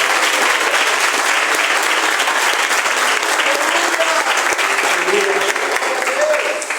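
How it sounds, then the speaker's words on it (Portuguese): A church congregation at a couples' gathering applauds, a dense, steady wash of clapping from many hands that fills the room without pause, with faint voices mixed in. "Quem pode dar uma salva de palmas para Jesus?"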